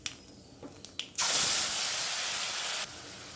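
Nigella seeds and a ground mustard and poppy seed paste hit hot oil in a kadai: a few small pops, then a loud, steady sizzle that drops off sharply after about a second and a half.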